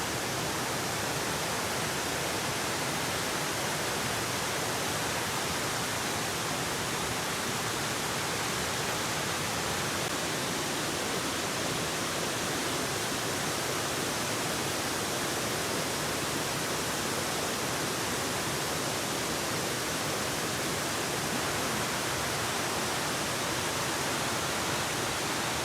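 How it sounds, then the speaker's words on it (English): Waterfall pouring over a dam at Stillwater Pond in Torrington, Connecticut, in early May, a steady, dense broadband rush that holds unchanged and fairly loud throughout with no voices. "Stillwater Pond by this dam and waterfall"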